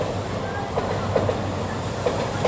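A Shinkansen bullet train moving nearby in Tokyo at night, a steady low rumble and hiss of rail travel with faint rhythmic clicks, heard at some distance amid ambient city noise.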